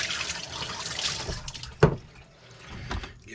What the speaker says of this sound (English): And then some our yeast water.